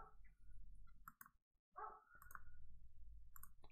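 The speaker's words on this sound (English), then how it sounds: "And there is a dog barking." A dog barks faintly in the distance, with a few short, scattered yaps over a low background rumble, quiet and sporadic.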